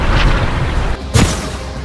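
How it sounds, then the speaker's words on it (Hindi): Tank bombardment and artillery fire in a war zone: a sustained rumbling barrage with a sharp, loud boom at about the midpoint, followed by continuing low, heavy blasts. "टैंक से बमबारी"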